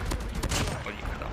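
The Oden gun fires in Call of Duty Mobile, heard as a quick burst of heavy, booming shots packed close together with no pause between them.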